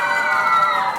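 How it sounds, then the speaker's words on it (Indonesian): Quiz show team A in a TVRI studio competition cheering, a brief burst of high, excited group shouting lasting about a second. "Saya mau dengar dulu tepuk tangan dari regu A."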